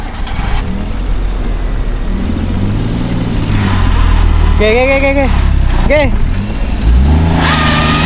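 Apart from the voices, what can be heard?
car engine revving while stuck in sand at the sea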